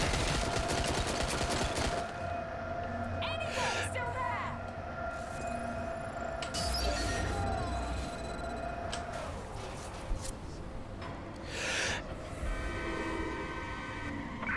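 Enemies open fire in the video game Watch Dogs Legion, with bursts of rapid gunshots in the opening seconds and scattered sharp cracks later among other game noise and music, loud and close.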